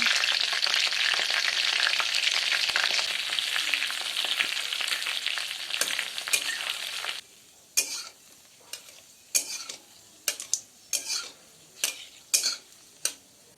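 Potatoes frying in a pan over a medium flame, a bright hiss of sizzling oil for several seconds that then drops away, leaving sharp clinks and scrapes of a spoon stirring against the pan.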